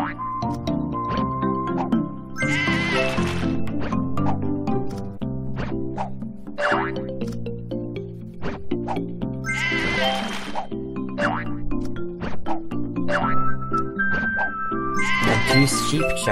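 Cartoonish sheep bleats from the puzzle game Divide By Sheep repeat in bursts over a steady musical backdrop, with bouncy boing-like effects mixed in.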